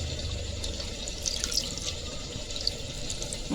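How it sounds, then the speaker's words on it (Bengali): Gourd leaves being rinsed under running tap water in a sink, a steady faint splashing and trickling stream with small drips and handling noises, close but quiet, no speech. "পাত্তাটা আমি ভালো করিয়ে জল দিয়া"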